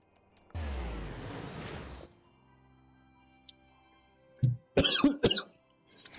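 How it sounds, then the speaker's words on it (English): A person coughing after inhaling water: one long harsh throat-clearing cough up front, then after a pause a burst of several sharp, close coughs in quick succession. "I'm sorry for coughing in your ears, guys."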